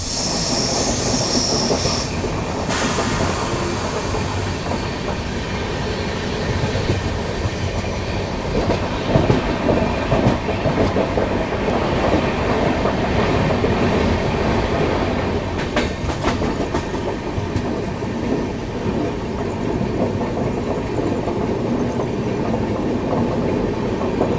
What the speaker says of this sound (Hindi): यहाँ पे अभी हम लोग चिंचोड़ा रेलवे स्टेशन को पार कर रहे हैं।